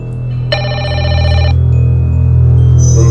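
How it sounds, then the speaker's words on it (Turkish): A telephone rings once, a bright electronic trill lasting about a second over a loud steady hum, with another faint tone near the end. "En olmadık anda telefon çalar."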